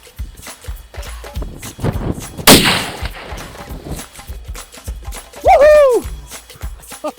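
A rifle shot fired at a running deer, one loud sharp crack partway through outdoor noise with footfalls, followed by an excited shout.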